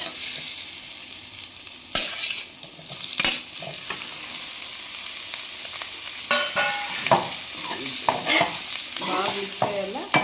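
Mutton liver is stirred and fried in a pan with green chillies, giving a steady sizzle broken by sharp scraping stir strokes and clattering utensil hits, close and fairly loud, with no voices.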